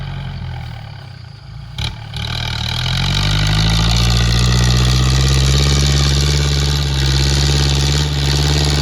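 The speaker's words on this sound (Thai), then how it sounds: "แบบเครื่องยนต์ดีเซลนะครับผม" A Kubota diesel engine on a rotary tiller runs loudly nearby with a deep, steady rumble that builds after a brief click, then holds a constant throbbing idle.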